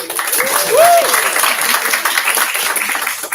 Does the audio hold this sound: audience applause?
yes